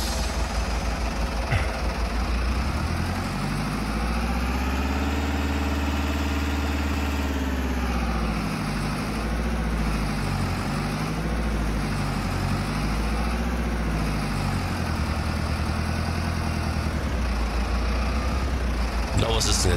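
Steady engine drone of a Fendt Farmer 300 tractor driving in Farming Simulator 22, continuous and loud with the pitch rising and falling slightly as the revs shift, a voice talking faintly underneath.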